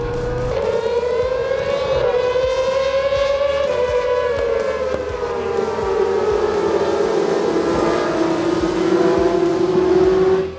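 Racing sidecars at the start of an FSBK race at Ledenon in 2021, with a loud sustained engine howl whose pitch climbs and falls and shifts as several machines rev and pull away together, a continuous roar with no speech.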